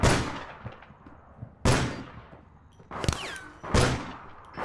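Gunfire in the online shooter APB Reloaded: three or four sharp, loud shots spaced about a second apart, each with a decaying tail, over low background game noise.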